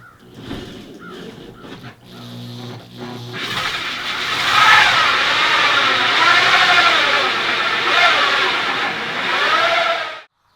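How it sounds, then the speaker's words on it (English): A hole saw cuts through a truck camper roof for a wood stove deck plate: a few knocks and short engine-like bursts, then a loud, sustained grinding whine that runs for about seven seconds before stopping abruptly. "let's get this hole drilled and get the deck plate mounted in there"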